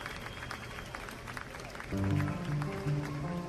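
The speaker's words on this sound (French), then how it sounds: "7 ans plus tard, les Cinassiens applaudissent la pose du nouveau clocher." An outdoor crowd of townspeople applauds as a new church bell tower is set in place, scattered clapping building into a fuller ovation partway through, with organ-like tones entering beneath.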